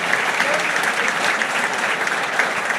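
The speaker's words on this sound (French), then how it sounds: "Merci infiniment, Jean-Baptiste Durand, et on peut l'applaudir." A roundtable audience breaks into sustained, dense applause, many hands clapping together at close range in an even wash of sound that carries on throughout.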